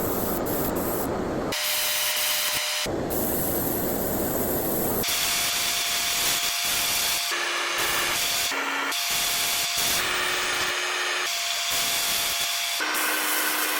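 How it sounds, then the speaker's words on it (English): An airbrush sprays Zenishift metallic paint at an airbrush station, giving a loud continuous hiss in several long bursts of varying tone, with short gaps and changes where the trigger is eased and pressed again. "So I'm gonna go airbrush these, right?"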